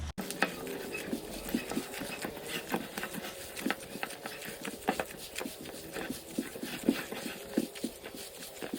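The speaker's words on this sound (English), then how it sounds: "That will ensure that all our ingredients are very well mixed." A gloved hand mixes chicken marinade with salt and sugar in a bowl, giving soft, irregular wet squelches and rubbing clicks at close range, quiet and continuous, with no speech.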